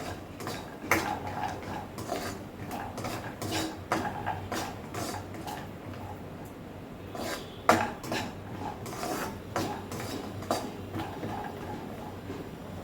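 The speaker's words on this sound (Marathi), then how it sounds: "त्याच्यानंतर काजू टाकायचे. काजू पण छान भाजून घ्यायचे." Cashews roast in ghee in a kadhai while a spoon stirs them, giving frequent clinks and scrapes of metal on metal over a faint sizzle, close and irregular, with a few louder knocks.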